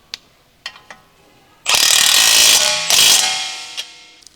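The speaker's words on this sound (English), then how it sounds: "Using the 15mm wrench with the 15mm long socket, an electric impact wrench, tighten the lower control arm ball joint to knuckle retaining bolt" Electric impact wrench with a 15mm long socket driving the lower control arm ball joint to knuckle bolt on a Chevrolet Cruze, a few light clicks, then two loud sustained hammering bursts, close.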